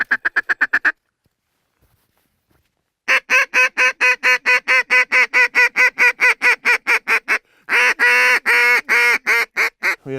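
Ducks on the water during a duck hunt quack loudly and close, a quick burst followed after a pause by a long run of steady, evenly spaced honking quacks, then a dense final volley, with no talking.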